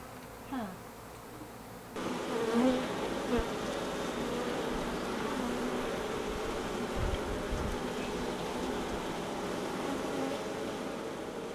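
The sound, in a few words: wild honey bee colony buzzing after hive removal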